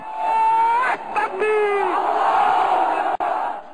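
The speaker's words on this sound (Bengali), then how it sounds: "এই সময় তারা নাস্তিকদের ফাঁসির দাবিতে স্লোগান দেন" A large crowd of street protesters chants slogans together in loud, sustained surges that rise and fall, with a lead voice calling out between the waves.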